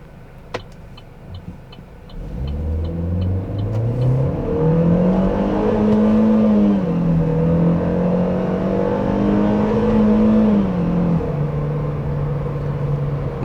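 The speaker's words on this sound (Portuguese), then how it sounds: "vamos usar a mesma aceleração, só que com o câmbio no modo manual." A Chevrolet Cruze automatic, its gearbox in manual mode, accelerates hard from near idle. The engine note climbs steadily and loud, with gear changes audible as brief dips in pitch before each rise resumes, and there is no talk.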